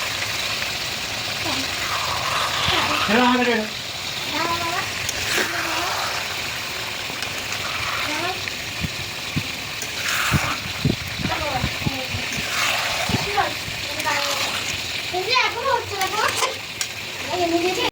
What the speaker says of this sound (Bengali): আর মাংসটা কিন্তু কষছি দেখতেই পাচ্ছি